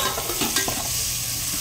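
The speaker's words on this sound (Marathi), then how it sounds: "थोडासा फोडणीत हा गरम मसाला टाकणार आहे" Garam masala hitting hot tempering oil gives a close, steady sizzle and crackle, broken by a few soft scraping stirs early on.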